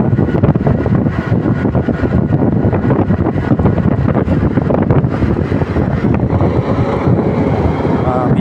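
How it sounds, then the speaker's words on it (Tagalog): Strong wind roars and buffets the microphone continuously, a loud low rumble that never lets up, with a voice speaking beneath it. "Medyo malakas po ang hangin dito ngayon"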